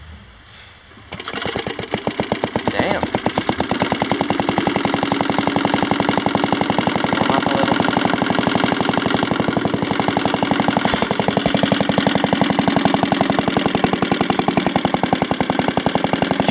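An old truck engine cranks, catches and settles into a loud, rapid, rough idle with an even knocking pulse that runs on steadily; one brief spoken word.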